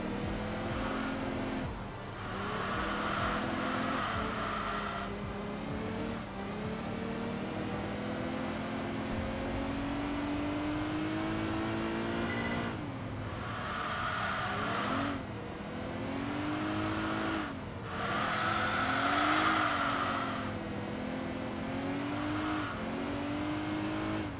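A race car engine in Enthusia Professional Racing drones loud and continuous, its pitch rising and falling through gear changes and repeated surges of acceleration.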